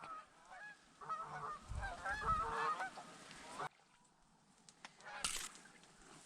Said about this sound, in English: Those 2 geese were about to come into the decoys